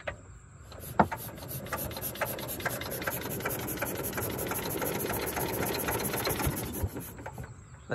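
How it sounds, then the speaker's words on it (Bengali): A boat engine is pull-started repeatedly on a cloudy day and fails to catch, giving a continuous rough rasping and knocking churn with rhythmic cord pulls and no speech. "চেষ্টা করছে মেশিন স্টার্ট দেওয়ার।"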